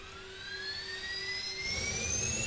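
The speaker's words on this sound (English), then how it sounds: "Micro turbo will whir up and the light is on, which is good." A SEPECAT Jaguar A micro turbo APU spools up in Microsoft Flight Simulator during a cold start, a rising whir with climbing whine tones over a steady rumble, growing gradually louder.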